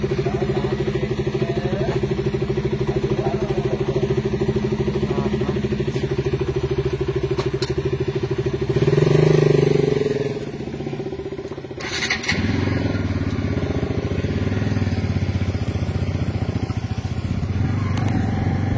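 A motorcycle engine runs at steady idle close by, then revs up and settles back as a group sets off from their room on a road trip from Coimbatore to Kodaikanal, with a few clatters and faint talk.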